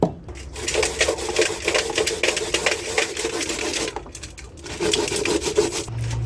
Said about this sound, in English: I like grating my coconuts because it will make it more smoother than when you blend it